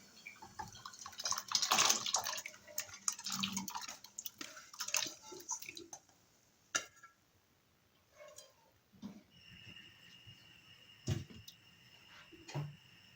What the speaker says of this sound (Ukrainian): От водичку я поставила, вона вже в мене закипіла. І закидаємо нашу картоплю.